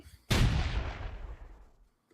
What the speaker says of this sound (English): That's the ship's cannon. They're shooting at the stockade.